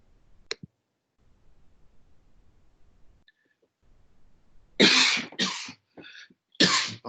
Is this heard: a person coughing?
yes